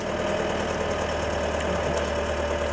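Engine of an off-road vehicle held at steady throttle, a close, even, continuous hum with a slight knocking texture and a sustained tone, no talking.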